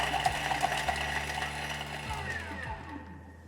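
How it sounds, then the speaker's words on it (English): A food processor whirs at speed 7 as it finely minces garlic, a steady mechanical buzz with a few clicks running about three seconds before fading out. "we're going to mince it very finely, so it's going to take about 3 seconds only at speed 7"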